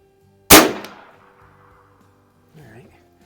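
A single sharp, loud shot from a Shin Sung Career Ultra lever-action .357 PCP air rifle at an outdoor range, a crisp crack with a short ringing tail, then quiet with faint talk near the end.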